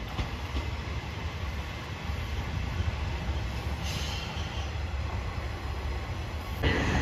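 A JR Shikoku 1000 series diesel railcar rumbles steadily past at close range, with a constant low drone and a faint high whine, and a brief burst of noise near the end.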